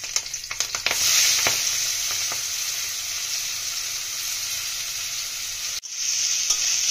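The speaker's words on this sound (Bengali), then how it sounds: "আমরা তেলের মধ্যে পেঁয়াজগুলো একটু ভাজা ভাজা করে নেবো" Loud, steady sizzling of chopped onions and green chillies frying in hot oil, with a few clinks and stirring scrapes at the start and a brief break near the end.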